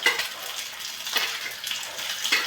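Fenugreek seeds frying in a pan, giving a steady broadband sizzle with soft stirring scrapes and clinks over about two and a half seconds, with no talking.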